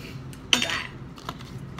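A utensil stirs canned carrots inside an opened tin can, one sharp metallic clink followed by a short scraping rattle and a few fainter taps.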